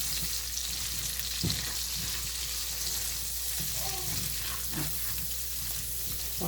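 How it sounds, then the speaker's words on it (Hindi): Prawns fry in oil with masala in a karahi, giving a soft, steady sizzle and crackle. Occasional stirring clinks and scrapes sound close by, and faint talk can be heard in the background. "तो इसमें हम इसको फ्राई करेंगे।"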